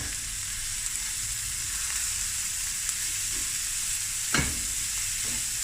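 About four cups of cold cooked rice stirred through burnt butter in a hot pan, a steady loud sizzle with a scraping stir sound and one sharp knock near the end.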